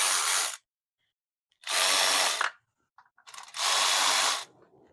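A ratchet tightening bolts during an LS engine swap into a 1989 Chevy K1500 pickup, three loud, close bursts of rapid clicking separated by short quiet gaps.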